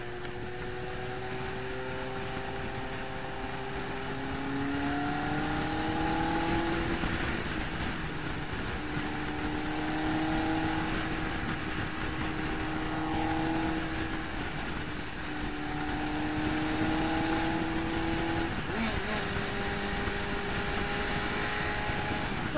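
A Yamaha XJ600 motorcycle accelerating to overtake on a German autobahn, its engine note climbing and shifting through gears in repeated rising sweeps under steady wind roar, heard continuously from the rider's position.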